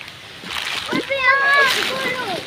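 Feet or a vehicle splashing through deep flood water around a house during heavy rain, a close sloshing wash under a person's and a voices talking.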